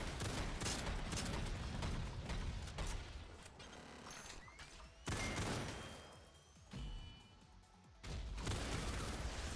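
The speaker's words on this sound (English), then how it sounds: "They're firing like crazy." Enemy gunfire rattles in dense, rapid bursts in the SYNTHETIK 2 shooter game, with booms and crashes breaking in between. The firing is loud and nearly continuous, with short pauses between volleys.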